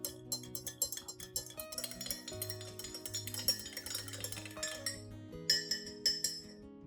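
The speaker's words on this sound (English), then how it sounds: "Then, stir well to release the nutrients from the rice." Repeated bright clinking of a spoon against a glass cup as rice and water are stirred briskly, close up, in an irregular rhythm.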